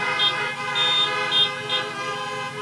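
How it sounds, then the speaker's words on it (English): Car horns honk repeatedly in a series of short and longer toots, loud and overlapping, as several vehicles sound off together at a Chanukah drive-in in Gainesville. "Give a honk if you had fun!"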